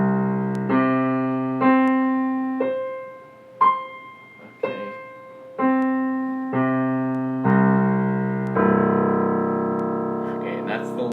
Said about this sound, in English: that's the lowest C on the piano that I just played there